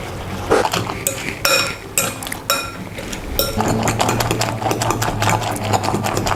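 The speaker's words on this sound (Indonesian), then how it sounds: "Kita aduk telurnya sampai sedikit mengembang." Eggs are beaten with a little baking powder in a new pan, giving bursts of rapid metallic scraping and clinking followed by a steady busy rattle of utensil against pan.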